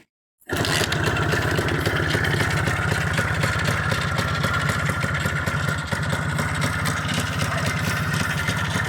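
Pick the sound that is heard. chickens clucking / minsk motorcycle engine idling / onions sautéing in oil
minsk motorcycle engine idling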